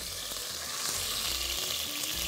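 Ginger and garlic sizzle in hot oil with cinnamon for a chicken curry kabsa, a loud, steady frying hiss with scattered pops and crackles throughout, close up and with no voices.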